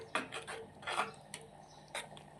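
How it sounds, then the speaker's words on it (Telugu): A spoon scrapes and clinks against a pan while chili powder is stirred into a cooking mixture, giving a few separate close metallic knocks and scrapes with no talk. "వేసుకొని ఇలా తిప్పుకోవాలి"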